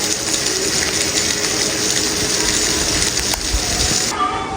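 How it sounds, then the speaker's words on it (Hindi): Rainwater rushes and rises in a residential street during heavy morning rain, a loud continuous gushing hiss up close that stays constant before dropping off sharply near the end. "गली में भी पानी चढ़ना शुरू हो गया है"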